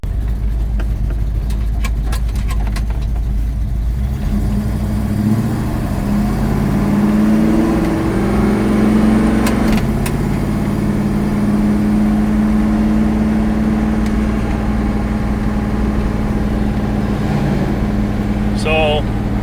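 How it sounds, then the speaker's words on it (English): A 1970 Plymouth Duster drives along with its engine droning and rising in revs as it warms up, heard from inside the car, steady and fairly loud with a voice talking over it. "I'll take her for a spin, warm her up real good"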